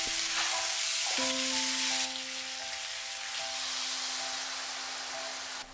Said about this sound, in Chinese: 倒入羊肉和洋葱，翻炒之后加1杯水